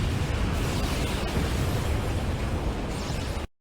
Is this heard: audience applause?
no